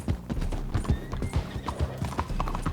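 Horse hooves clip-clopping in the Red Dead Online video game, a steady rhythmic run of close, distinct hoof strikes with a faint whinny mixed in, no talking.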